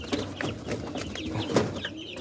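Chickens cluck and murmur softly around feeding time, a close, busy patter of short calls and scratching with no talk.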